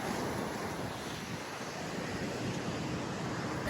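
Sea waves breaking along the shore at Somnath, a steady full roar of surf mixed with wind buffeting the microphone, continuous and loud with no voices.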